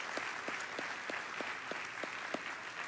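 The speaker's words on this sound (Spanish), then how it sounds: "Denles un aplauso, dígales gracias por estar con nosotros." Sparse, light clapping rises from a small church audience, sounding as scattered rhythmic claps of fairly low volume with no voices over them.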